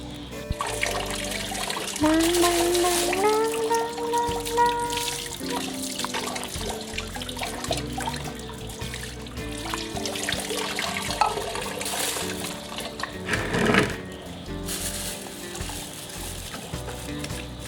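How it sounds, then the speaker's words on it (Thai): Tie-dyed T-shirt rinsed in plain water, with running, splashing water from a tap filling a basin steadily throughout, a brief higher tone early on and a louder splash near the end. "ล้างน้ำเปล่าค่ะ"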